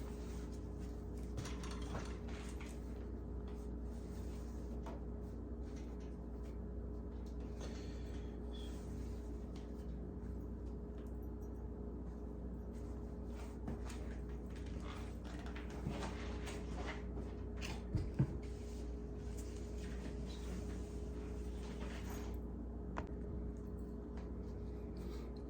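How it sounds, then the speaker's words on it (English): A sewing machine stitches two pieces of necktie fabric together, giving a steady, continuous mechanical hum with faint whirring gear noise and one brief sharper click near the end. "now we gotta sew these two pieces together"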